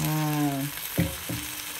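Cleaned, cut crab pieces dropped into curry masala in a pan raise a close sizzle, with two sharp bursts of frying as the pieces land, after a short stretch of a voice talking.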